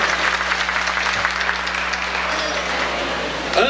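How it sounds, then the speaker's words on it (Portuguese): An audience at a folk dance show in a resort applauds a correct answer, a brief burst of steady crowd clapping with a low hum beneath and a few voices mixed in. "Palmas pra ela!"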